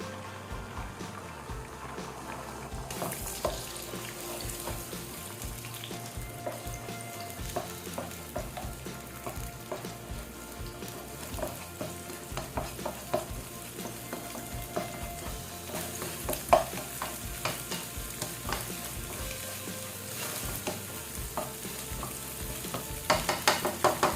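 Squid balls frying in a little oil for kikiam fried rice, a steady close sizzle with crackling pops and occasional stirring scrapes, continuous with no talk.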